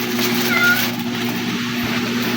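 A cat gives a short, close meow over a steady background hum, with no talk during the call.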